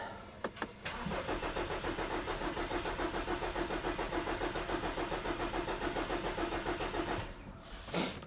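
A BMW N20 engine's starter cranks steadily for several seconds with injectors disconnected, a rapid, rhythmic whirring churn that never catches, then cuts off.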